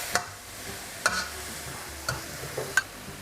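Minced pork is stir-fried with shrimp and stink beans in a pan, with a soft continuous sizzle broken by four sharp, evenly spaced spatula taps against the pan, close by and with no talk.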